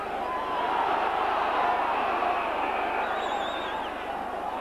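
A rugby league crowd at a Halifax v St Helens match gives a broad, steady murmur of reaction with scattered whistles, while a commentator's voice runs over it.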